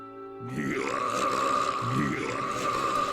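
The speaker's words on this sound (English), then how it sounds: "that's a loud burp!" A long, loud, low belch that rumbles for about three seconds, deep and close with a rough, throaty texture.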